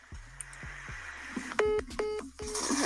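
Telephone keypad tones beep in a quick run of dialed digits, each a short steady dual tone, fairly clear over a faint background before the call connects.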